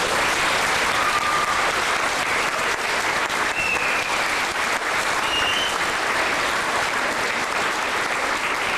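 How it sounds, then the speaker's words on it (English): A crowd gathered for Kristopher's Wish in Prince Albert, Saskatchewan claps steadily and loudly for about nine seconds as he sets off on a walk to City Hall, with a few faint whistles over the applause. "let's give him a round of applause as he heads."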